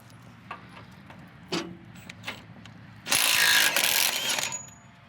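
A Milwaukee M18 FUEL Gen II half-inch mid-torque impact wrench removes loader bolts, with a few short clicks and knocks first, then a loud burst of hammering rattle lasting about two seconds, nearby.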